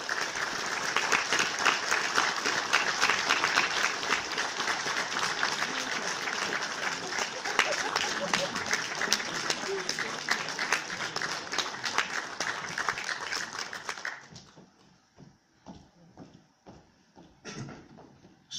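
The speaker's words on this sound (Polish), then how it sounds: "I brawa dla Leszka Waligury." Audience applause at a choir's 90th anniversary celebration for accompanist Leszek Waligura, sustained dense clapping for about fourteen seconds before fading to scattered claps.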